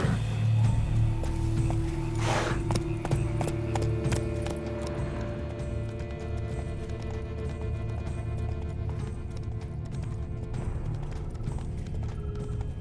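Hooves of Geralt's horse Roach galloping in The Witcher 3: Blood and Wine, a rapid rhythmic clatter under a steady bed of game music and ambience, fairly close and continuous, with a brief neigh-like burst early on.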